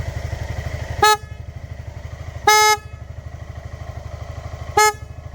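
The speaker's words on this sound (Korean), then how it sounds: "자, 클락션 한번 해볼게요." A Honda ADV350 motorcycle horn honks three times, short blasts separated by pauses, over the steady puttering of the idling engine nearby.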